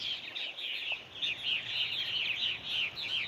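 Fledgling purple martins coming in to roost, a dense flock of roughly 500 young birds with adults, chattering in continuous overlapping chirps and twitters that rise and fall in waves, moderately near with no talk.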